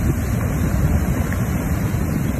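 Large waves break on the seashore just after Typhoon Doksuri, a loud continuous roar of surf mixed with wind buffeting the microphone.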